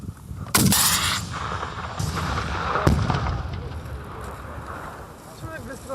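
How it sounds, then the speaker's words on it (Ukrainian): A sharp, loud RPG grenade launcher blast booms out, then a second crack about two seconds later, with voices and rumbling background noise around them. "стріляєте РПГ вперед. Постріл!"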